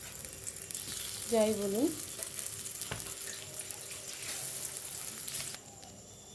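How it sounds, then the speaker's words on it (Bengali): Telakucha leaf fritters are dropped one by one into hot oil, giving a steady, close sizzle and bubbling throughout, with a brief voice in the middle. "তেলের ভেতরে একে একে বড়াগুলো ছেড়ে দিচ্ছি।"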